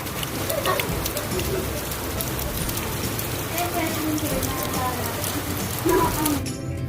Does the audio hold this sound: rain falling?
yes